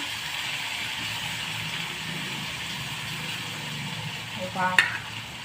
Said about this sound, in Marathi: हिरवी मिरची कच्ची वाटलेली आहे त्याच्यामुळं तळून घ्यायची